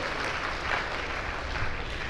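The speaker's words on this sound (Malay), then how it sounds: "beri tepukan yang gemuruh kepada MC kita, YSM Rosalind" An audience at a sharing event applauds the emcee, a short, even burst of clapping from many hands, moderately loud and close, lasting about two seconds with no talk.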